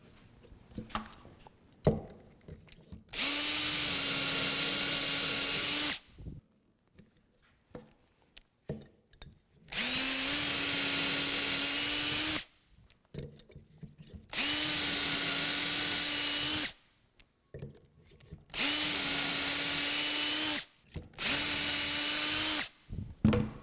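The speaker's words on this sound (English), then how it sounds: "And now I'm going to slowly move the doweling jig over and drill a series of holes." A power drill bores a series of dowel holes through a doweling jig into wood for table legs, four long steady whining runs of about three seconds each, separated by quiet pauses with small handling clicks.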